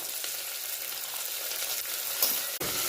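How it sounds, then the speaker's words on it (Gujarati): Potatoes and peas stirred in a pan with green chillies for vaghareli khichdi, a steady broadband sizzle with soft scraping throughout, a brief clatter near the end, no talk. "અને બધું સારી રીતે આપણે મિક્સ કરી લઈશું"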